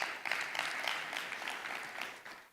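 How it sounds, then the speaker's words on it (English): Audience applause at a formal dialogue event on diplomacy, a steady wash of many hands clapping, fairly faint and distant, fading toward the end. "Please kindly give her a round of applause."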